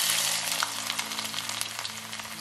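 Chopped ginger frying in hot oil along with spluttered mustard seeds and fenugreek for a Kerala-style fish pickle, a steady, close, dense sizzle with small crackles throughout and no voices.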